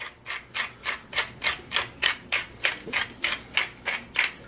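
Freshly ground black pepper cracks through a hand grinder in a steady run of about a dozen rhythmic gritty crunches, close and clear, with no talking.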